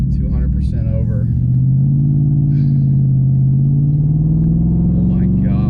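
A car fitted with an AMP'D 2.0 throttle booster, set to sport mode at 200% extreme, accelerates hard. Its loud, close engine drone climbs steadily in pitch over several seconds, with a brief voice near the start.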